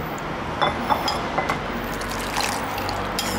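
Boiled pork bone broth is poured into a cooking pot, a soft continuous liquid wash with a few faint clinks of utensils against the pot, close and quiet.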